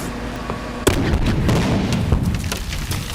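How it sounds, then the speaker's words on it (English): A sudden loud blast as a limousine explodes on live WWE Raw television in 2007, followed by a rumbling, crackling burning roar that continues without talk. "Out of nowhere, the vehicle exploded on live"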